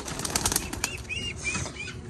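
A pigeon's wings flap in quick, fluttering bursts close by, with a few soft chirps mixed in, fairly quiet overall.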